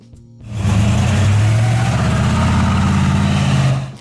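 A 1971 Pontiac GTO Judge with its 455 HO V8 rumbles loud and close, a deep steady engine roar that swells in after a quiet start, holds strong for about three seconds, then drops away.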